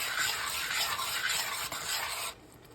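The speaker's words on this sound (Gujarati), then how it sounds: "હવે આપણે ડુંગળીની ગ્રેવી નાખીને મિક્સ કરી દઈશું" Onion gravy being stirred into a pan of papdi beans, pigeon peas and green peas for Gujarati undhiyu: a continuous close scraping and sizzling hiss that breaks off abruptly near the end.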